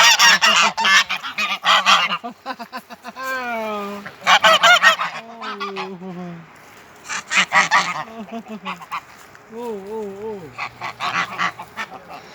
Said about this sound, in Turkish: Kaz bunlar. Kazlar. Bunlar ördek değil, kaz.